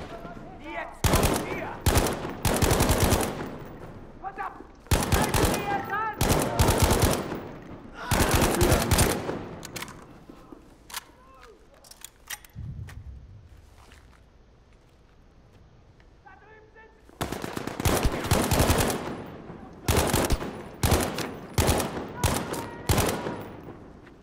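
Bursts of video game gunfire crack out in rapid clusters, loud and close, with a long quieter lull in the middle before another heavy volley; some voice sounds mix in.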